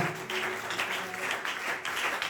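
A church congregation at a youth service applauding, a steady crowd clapping that stays loud and even for the brief moment without pause.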